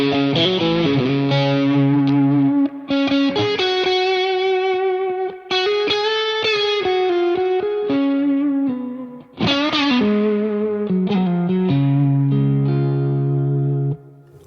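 A guitar played through the TINY V4 stereo rig with reverb rings out in sustained, heavily processed notes and chords, with a few brief gaps between phrases and no voice.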